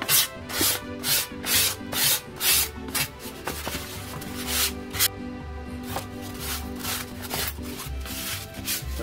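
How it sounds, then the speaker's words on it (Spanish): Hand sanding of a styrofoam bell being decorated for Mexican patriotic festivities, worked on both sides: close, steady rhythmic rubbing strokes repeating throughout, with no talking. "En este caso nosotros estamos lijando de los dos lados."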